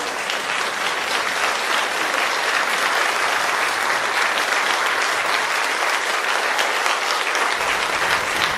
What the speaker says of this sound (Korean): 먼저 환영사를 해주실 서병조 원장님께 큰 박수 부탁드립니다.